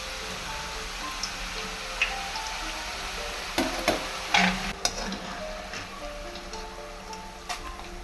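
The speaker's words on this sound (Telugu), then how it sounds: "మళ్ళీ ఇదే విధంగా మిగిలిన చిప్స్ అన్నిటినీ డీప్ ఫ్రై చేసేసుకోవాలి" Maida chips deep-frying in hot oil for a crispy snack, a steady soft sizzle with a few sharp ticks and clinks from the pan or utensil, no voices.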